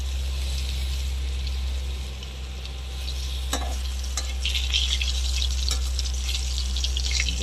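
Aubergine slices frying in a pan over a lowered gas flame: a loud, steady sizzle and hiss throughout, with a few clinks of stirring and brief bursts of sharper crackling.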